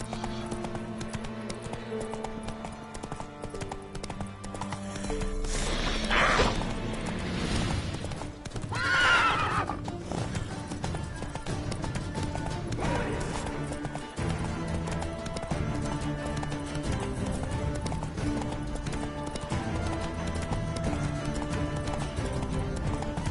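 Roach the horse in Witcher 3 gallops with steady rapid hoofbeats and lets out two loud whinnies over a continuous game soundscape with background music.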